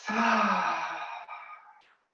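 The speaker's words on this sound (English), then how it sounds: "And maybe breathing out through the mouth." A single long exhale out through the mouth during a yoga breathing exercise, a close, breathy sigh of about two seconds that fades out at the end.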